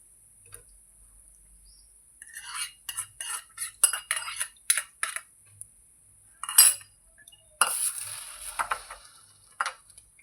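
A spoon scraping and clinking against a pan while stirring a roasted coconut mixture for sweet balls, in irregular close metallic taps and scrapes with short pauses and no talk.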